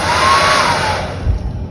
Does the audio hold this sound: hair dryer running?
yes